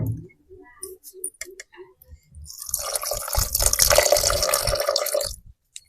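A few soft clicks, then water pours steadily into a bowl of rice batter for a few seconds, splashing and gurgling up close before stopping.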